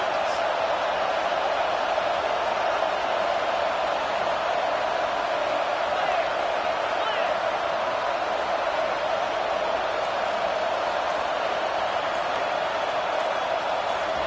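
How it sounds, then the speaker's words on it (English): Constant roar of a stadium crowd in an American football video game, a dense, steady wash of noise with no breaks for the whole stretch. "This crowd trying to make life miserable for this offense."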